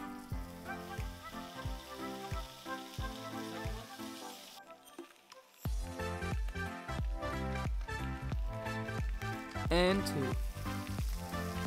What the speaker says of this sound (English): let's start placing our fish